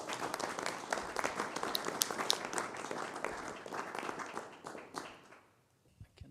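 Audience applause at the Stockholm Climate Leadership Forum 2025, a burst of many people clapping with distinct sharp claps that holds steady and then quickly fades out near the end.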